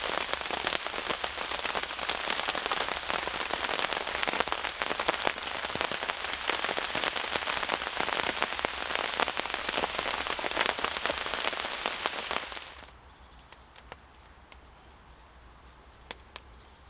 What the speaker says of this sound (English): that was so nice listening to the rain on the tarp last night